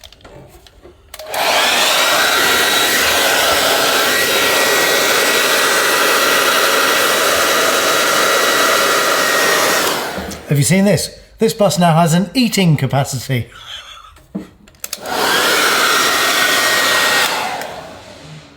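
A hairdryer roars loud and steady for about nine seconds while heating vinyl decals on the body of a restored AEC Routemaster London bus. It cuts out, a person speaks, and then it blows again.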